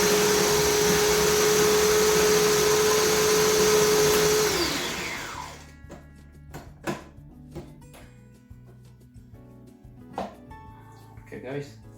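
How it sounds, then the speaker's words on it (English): An electric kitchen grinder whirs loudly and steadily while grinding garlic and other ingredients for Afghani chicken gravy, then winds down after about four seconds, followed by scattered clatters and knocks of handling the jar. "I'm gonna grind this again to get a mix."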